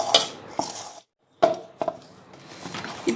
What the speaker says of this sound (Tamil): சூடா இருக்கும், அதனால ஃபர்ஸ்ட் கரண்டியில கிண்டிக்கோங்க